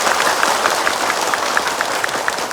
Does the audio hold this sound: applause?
yes